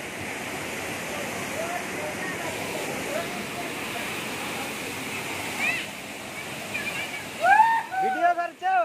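Lang Voku waterfall in Karbi Anglong, Assam, roaring as a steady broadband rush of falling water close by, with voices talking over it near the end.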